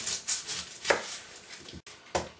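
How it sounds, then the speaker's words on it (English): A knife chops an onion on a board in a home kitchen. About six sharp, irregular knocks ring out close by, with no talking. "I'm going to chop an onion"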